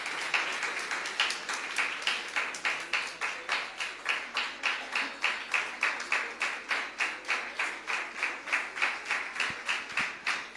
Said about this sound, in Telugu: అందరూ కూడా చప్పట్లు కొట్టి వారిని ఆహ్వానిద్దాం.